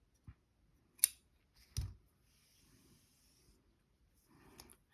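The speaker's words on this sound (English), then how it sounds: "so I'll cut that in half" Scissors snip a length of material in half, giving a few sharp, quiet close-up cuts with soft rustling between them in a quiet room.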